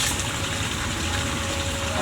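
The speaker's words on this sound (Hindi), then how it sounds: "अब इसके बाद इस पानी को हम यहाँ से भर लेते हैं।" Stream water gushing steadily as a bottle is filled outdoors in the wild, a constant loud rushing wash with no talk.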